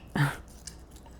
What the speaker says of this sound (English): Oh, did you hear that crunch?